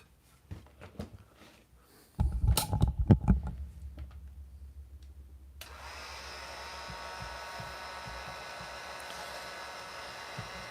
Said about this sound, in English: time to grab my trusty heat gun.